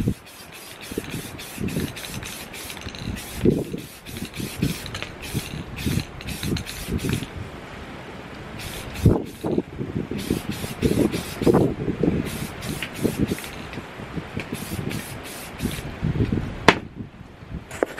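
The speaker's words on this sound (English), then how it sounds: "go with the spray paint." Bursts of an aerosol spray paint can hissing as an Eagles logo is painted onto a tumbler, repeated short sprays with rattly handling and scraping noises in between, fairly close.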